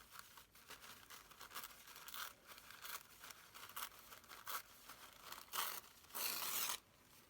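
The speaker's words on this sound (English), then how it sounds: "I'm going to rip this first." Paper napkins torn by hand for a junk journal make a series of close, crisp ripping and crinkling bursts in an irregular rhythm, ending with one longer, louder tear.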